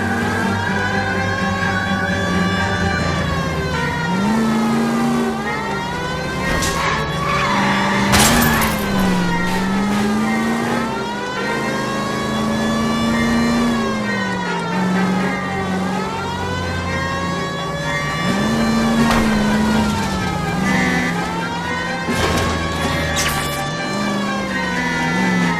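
Car engine roaring during a chase in the video game L.A. Noire, loud revving that swells and drops with gear shifts, overlapped by a wailing siren and brief crashes, continuous and close.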